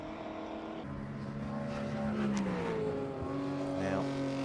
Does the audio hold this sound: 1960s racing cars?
yes